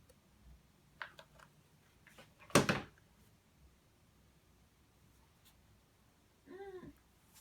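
Cat near a workbench where EVA foam armor is being built, giving a short meow near the end, preceded by scattered faint clicks and one brief louder rustle or knock in an otherwise quiet room.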